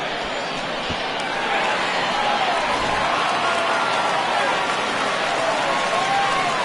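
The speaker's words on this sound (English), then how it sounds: "No better way to get the home crowd into it right out of the gates." A home crowd at a baseball game keeps up a loud, steady roar of cheering and clapping, a dense wall of sound that never drops off.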